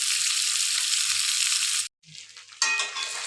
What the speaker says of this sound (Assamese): এয়া দেখিছে মাছ ধুনীয়াকৈ ফ্ৰাই হৈ গৈছে।